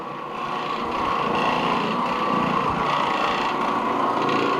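An Oreck Orbiter floor machine scrubs carpet with a bonnet pad inside a closet, giving a steady, close motor drone that starts up and holds even throughout, with no one talking.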